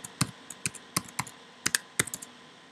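Someone types a password on a Mac computer keyboard: a dozen or so crisp, close key clicks in uneven bursts, with no talking.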